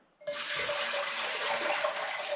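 Four litres of water gush steadily into a pan set on a wok ring with a double burner, a loud continuous pouring rush that starts abruptly and holds without pause.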